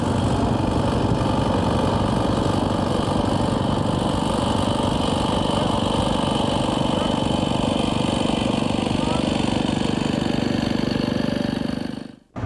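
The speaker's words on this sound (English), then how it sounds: "Got the old tractors driving around, the old tractors and trucks." Vintage tractors and old trucks at a tractor museum rumble loudly and steadily nearby, a constant chugging engine drone that cuts off abruptly at the end.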